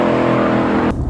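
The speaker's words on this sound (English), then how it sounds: "When I say like the engine, this roaring every time you click through the gears" A Lexus IS F V8 engine roars loud and close with a dense, sustained growl that cuts off sharply near the end as a gear change comes through.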